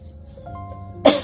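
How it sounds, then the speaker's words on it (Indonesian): A woman gives a single sharp cough at the end of a quiet moment, short and close. "Cuma batuk biasa."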